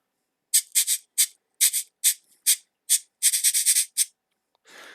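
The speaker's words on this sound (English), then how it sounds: "You take your hand and you rub the metal beads against the bumpy texture to make that noise." Metal beads of a hand-held cabasa rubbed against its bumpy surface: about a dozen short, crisp rasping strokes in an uneven rhythm, some quick runs packed together, close and alone, ending with a softer, duller scrape.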